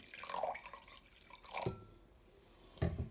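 White vinegar for pickles splashing and dripping into a container in a few short bursts, quiet and close, with brief pauses between pours.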